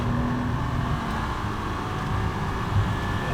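Porsche 911 Turbo S under hard acceleration, a steady, dense engine roar that holds loud and close throughout with a slight rise near the end.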